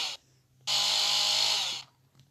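A buzzing, whirring saw in an online video game: a brief burst, a pause, then a longer steady whine over a low hum.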